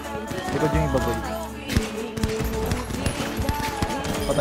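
Bursts of gunfire ring out in a GTA V FiveM shootout, rapid shots clustered with a louder volley midway, under excited talk from players.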